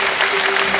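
A Heinola audience claps loudly and steadily at a children's orchestra event, dense applause filling the whole moment with no pauses.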